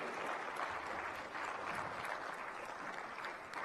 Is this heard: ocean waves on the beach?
no